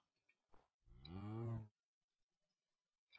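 A cow mooing in the Minecraft video game, one clear, loud, drawn-out low moo standing alone against near silence.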